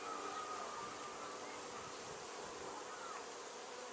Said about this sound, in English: I'm going to shake the bees into here.